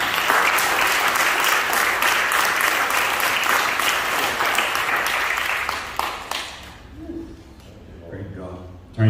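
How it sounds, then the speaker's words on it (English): Church congregation applauding a minister during a service, loud sustained clapping for about six seconds that then thins out and fades into quieter room sound. "Let's clap for him one more time."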